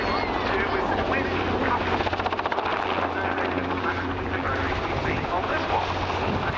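A Westland Wessex helicopter flies at the RAF Cosford Air Show 2022, its steady rotor thrum and engine drone loud and continuous while a commentator talks over it.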